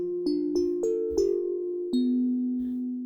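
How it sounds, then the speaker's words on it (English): Bell-like stepped notes from a Roland S-1 synthesizer with the saw removed, giving an FM-style bell sound: a short run of bright, chiming plucked tones over a sustained low drone, clean and close. "If you remove that saw, you almost get a more of an FM sort of bell sound"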